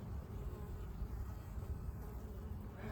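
Honeybees buzz around a busy hive entrance as foragers carry pollen inside, a soft, steady drone of many wings at low level with no voices.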